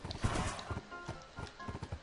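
Horse hooves clip-clopping in Minecraft, a steady run of soft, close footfalls with a faint whinny-like tone, as the player leads a horse on a tether.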